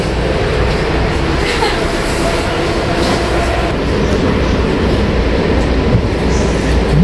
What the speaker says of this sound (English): Inside the train guys, so some train aboard